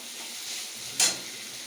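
Potato and pointed gourd frying in a pan give a soft, steady sizzle, faint and close, with one brief louder hiss partway through.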